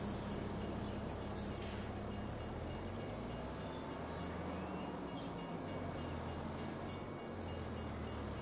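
A train rolls past on the Elmwood Creek map in Farming Simulator 25 on PS5, a steady, continuous low rumble with rail clatter and a faint hiss, heard alone at an even level throughout.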